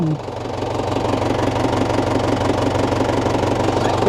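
A baler tractor's engine, started with its self-starter, runs at a steady, close, loud idle with a knocking diesel rhythm.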